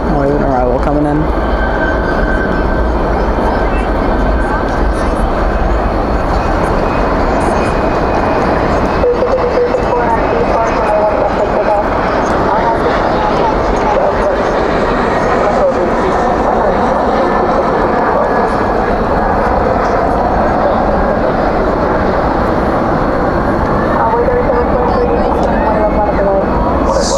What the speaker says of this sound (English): Spoilers up, reversers out on the CRJ 700.